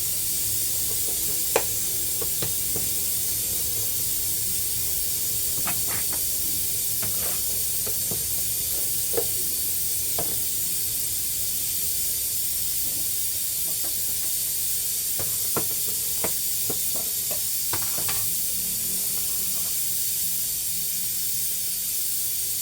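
Bay leaf sizzling in hot oil in a clay pot as mutton is cooked, a steady soft hiss throughout with scattered faint crackles and pops, no talking.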